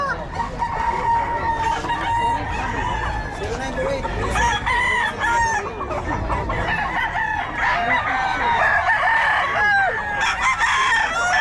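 Gamefowl crow repeatedly and overlap at a busy rooster market in Bocaue on a rainy day, with clucking and voices of people talking throughout.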